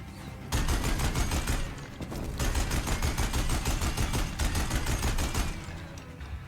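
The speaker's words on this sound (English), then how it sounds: "Deathbringer gun!" The Deathbringer gun from the video game Horizon Zero Dawn Remastered fires in a loud, rapid, sustained burst of shots, briefly pausing once, then rattling on before trailing off.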